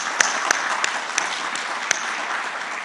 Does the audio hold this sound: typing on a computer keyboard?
no